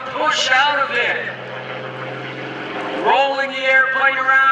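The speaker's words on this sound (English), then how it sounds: "Rolling the airplane around. It's a beautiful torque roll." Aerobatic airplane performing a torque roll at the 2014 Greenwood Lake Airshow, its engine droning steadily with shifting pitch and a rising surge near the end, heard under continuous commentary from an announcer.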